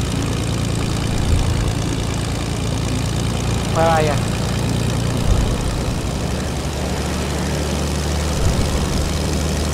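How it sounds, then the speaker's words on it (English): A propeller plane's engine in the video game Fortnite drones steadily and loudly throughout, with a voice talking over it. "Oh, you've got a plane back."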